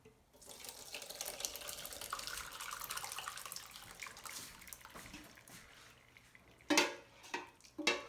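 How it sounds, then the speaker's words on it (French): A tofu mixture is poured into a mould during a chemistry project: a steady, splashing liquid pour running for several seconds, then a few short knocks and clatters near the end. "J'ai mon mélange ici. Puis je le verse."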